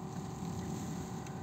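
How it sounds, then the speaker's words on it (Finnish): Steady low rumble of strong, freezing wind buffeting a car, a constant broadband roar with no breaks; rain is not distinct within it. "Ihan jäätävä tuuli ja sade."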